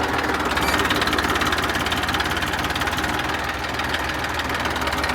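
A Massey tractor engine labors in low second gear while pulling out of a muddy field, a steady loud diesel drone with knocking vibration running unbroken throughout.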